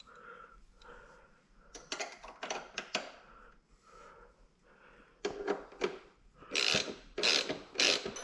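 Ratchet wrench clicking in quick bursts while snugging a Yoshimura Alpha T exhaust onto a 2020 Kawasaki ZX6R motorcycle, close up, with rapid pawl clicks in several separate runs and short pauses between them.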